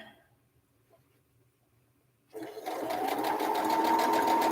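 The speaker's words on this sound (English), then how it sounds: "But I'm just sewing some of the strips on" A sewing machine stitches fabric strips, starting after a quiet moment with a sudden steady, rapid mechanical whir and rattle that carries on loud and close to the end.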